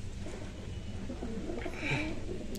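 A pigeon gives a soft, low coo over a quiet room-tone background, faint and brief rather than sustained.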